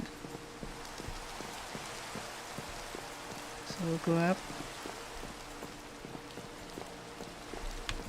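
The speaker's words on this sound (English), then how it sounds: "Everyone's trying to stay out of the rain" Rain falls in the Minecraft video game as a steady soft patter throughout, with regular faint tapping and a brief voice speaking midway over the background.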